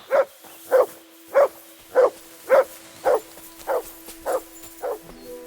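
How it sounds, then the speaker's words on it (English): Dog in Kingdom Come Deliverance II barks nine times in a steady, evenly spaced rhythm, each bark loud and close, with a faint constant tone running underneath. "You silly mutt."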